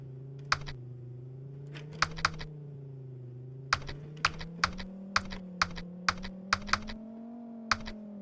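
Typing on a computer keyboard during a game stream: sharp, close key clicks in irregular bursts, some in quick pairs and runs, over a low steady hum.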